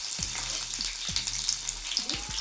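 Dried red chillies, garlic cloves and curry leaves frying in hot oil in a pan make a bright, continuous sizzle, close and steady, with a few soft stirring knocks and no talking.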